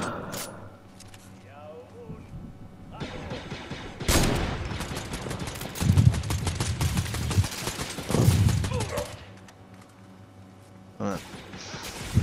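Rapid bursts of blaster-style gunfire from a clone trooper in Fortnite, loud and repeated in clusters across the scene, with players talking over the shooting.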